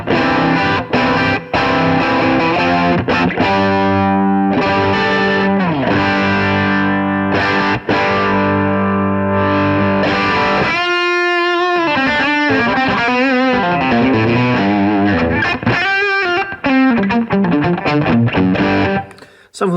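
Electric guitar through a Seymour Duncan Little '59 bridge pickup for Strat in full humbucker mode, playing loud, crunchy distorted chords and riffs with sustained ringing notes and brief pauses, close and continuous.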